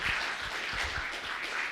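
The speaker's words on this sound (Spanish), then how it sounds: "Den un fuerte aplauso" Applause from a church congregation during an evangelical Spanish-language service in Utah, a steady wash of many hands clapping at moderate level with no clear pauses.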